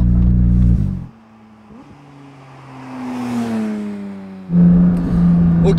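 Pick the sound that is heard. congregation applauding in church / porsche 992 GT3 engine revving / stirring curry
porsche 992 GT3 engine revving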